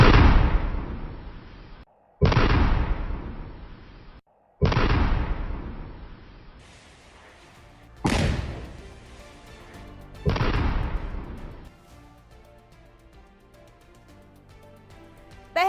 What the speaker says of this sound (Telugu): ఐఈడీ బాంబును అమర్చి ధ్వంసం చేశారు